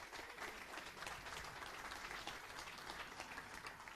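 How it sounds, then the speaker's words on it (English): Sustained crowd applause fills the hall at a mixed 10m air rifle standing final, a dense, even wash of many clapping hands with no voices on top. "And a bigger applause for the 8th place, which goes to Sweden."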